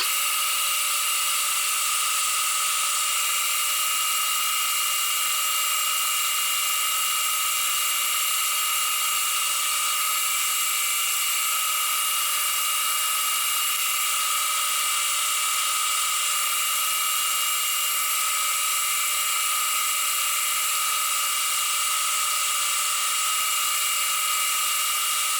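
A drill boring a 2.5 mm hole in a brake part, giving a steady high-pitched whine with constant tonal hum that runs unbroken for the full length, loud and alone with no voices.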